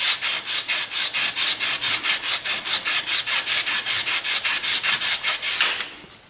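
Someone hand-sands part of a Dodge Viper crankshaft damper with about twenty steady, rhythmic back-and-forth scraping strokes. The rasping is loud and close, then stops abruptly near the end.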